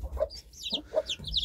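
A hen gives a few soft, short clucks in quick succession, close by and quiet, with no one talking.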